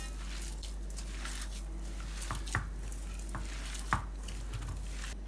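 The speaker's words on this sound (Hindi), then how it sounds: "बस अब हमने तमाम चीज़ों को अच्छे तरीके से मिक्स कर लेना है" Chicken tikka kebab mixture being mixed with spices in a bowl, soft wet squishing and a few sharper taps against the bowl over a steady low hum, close and quiet, without speech.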